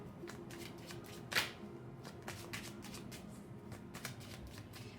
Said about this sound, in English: I'm going to pull one final card from the Just Breathe Divine Feminine Oracle.